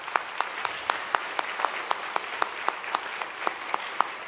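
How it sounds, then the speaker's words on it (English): Audience clapping for a percussion instructor at a junior high summer music camp concert, a continuous crowd wash with one close, loud clapper striking in a steady, even rhythm across the whole stretch. "Give Nick a round of applause, please."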